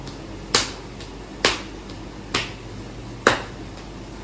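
A patient taps a hand during a rapid alternating movement coordination test, giving five sharp evenly spaced slaps about once a second over a steady background hum.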